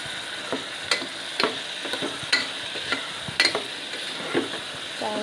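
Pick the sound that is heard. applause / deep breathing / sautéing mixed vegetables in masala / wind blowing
sautéing mixed vegetables in masala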